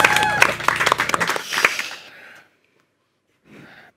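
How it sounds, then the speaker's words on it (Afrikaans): A studio audience on an Afrikaans cooking show bursts into brief, loud clapping that fades out within about two seconds, followed by near silence and a faint rustle. "kom ons geef julle 'n hande klap"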